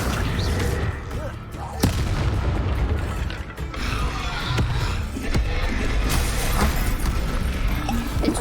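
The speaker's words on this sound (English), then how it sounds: "使用大爆爆引爆红色炸药桶。" A red explosive barrel set off by a Bombarda spell in a video game, heard as booming blasts and sharp bangs over dense, continuous combat noise and rumble, with a few louder hits spread across the clip.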